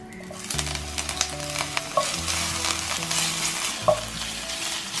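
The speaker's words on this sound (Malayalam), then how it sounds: "ഇതെല്ലാം കൂട്ടിയിട്ട് എണ്ണയിലേക്ക് ഇട്ട് കൊടുക്കാം" Cloves, mace, cinnamon, cardamom and sliced ginger sizzle in hot oil for a vegetable paneer kurma, a steady hiss with occasional stirring clicks and a low background hum.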